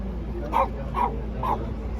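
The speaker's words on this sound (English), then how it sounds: "So there's a dog." A dog gives three short, evenly spaced yips or barks, fairly close, over a low background hum, during a stop on the Ring of Kerry in Ireland.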